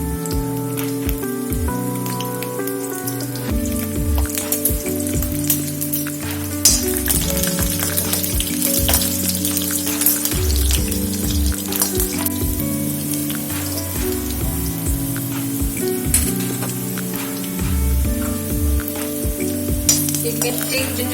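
Green chili and garlic fry in a pan for an Indian red gravy, giving a dense, loud, continuous sizzle full of rapid crackles and spatters that runs unbroken throughout, with no one speaking.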